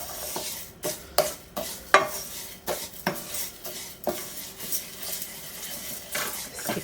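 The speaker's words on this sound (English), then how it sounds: "we're just going to let this pan heat up and lightly toast these grains" Rice grains toasting in oil in a heated pan for a shelf-stable risotto, heard as close, repeated scraping and stirring strokes with light clinks of utensil on pan over a soft sizzle.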